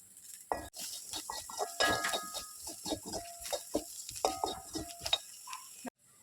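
Sliced onions with garam masala are stirred in a pan for a crab roast, giving irregular close scraping and clattering spatula strokes over a light sizzle, with short pauses between strokes.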